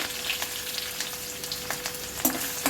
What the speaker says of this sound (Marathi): चला आता आपल्याला ह्या भाज्या परतून घ्यायचे आहेत